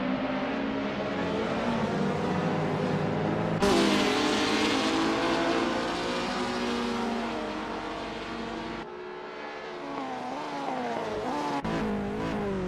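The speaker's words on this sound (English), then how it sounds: "The roaring engines are echoing Seppo's battle cry" Classic touring race cars in the Assetto Corsa sim on the Magione circuit roar continuously and loudly, the engine pitch rising and falling with shifts, with brief tire squeals and no talk.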